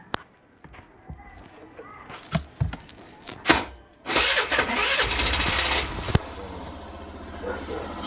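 Suzuki Burgman 125 scooter after an oil change, a few close clicks and taps, then the engine cranks and catches at about four seconds into a steady, loud idle hum, with someone speaking nearby.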